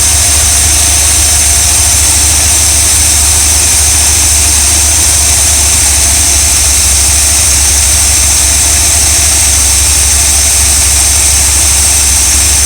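An old RV engine, just after a choke adjustment, runs steadily nearby, a constant low rumble with a high whine on top, loud and unbroken throughout.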